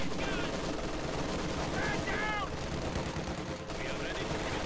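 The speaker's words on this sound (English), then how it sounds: "And these MG42 seem to be pinning down a combat engineer squad over there." MG42 machine guns rattling in Company of Heroes, a dense continuous stream of rapid gunfire under a busy battle mix with whistling sounds and a voice talking over it.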